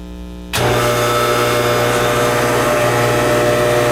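An Electro Arc Model 2-SAC machine starts up with its coolant pump and head vibration, jumping from a low hum into a loud, steady mechanical drone with a constant buzzing vibration that runs on evenly.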